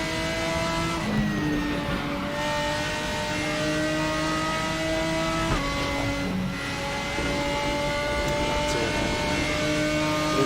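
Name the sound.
race car engines from video game RaceRoom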